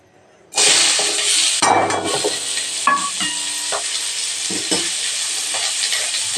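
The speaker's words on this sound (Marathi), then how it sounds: "आता भाजायला कांदा टाकते भरपूर असा कांदा" A large batch of onions tipped into a hot pan for a Marathi chilli dish, bursting into a loud, continuous sizzle with scattered clinks and stirring scrapes close by, no voices.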